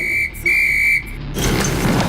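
Someone blows a toy whistle with a moustache attachment to scare off a dog, giving two sharp, shrill blasts, the second longer, loud and close, followed by rustling outdoor noise.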